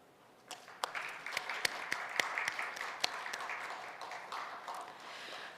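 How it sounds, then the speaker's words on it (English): Applause closing an online international conference, scattered individual claps from a small audience, distinct sharp hits at a moderate distance, fairly quiet and irregular without any steady roar. "I believe a strong round of applause is in order."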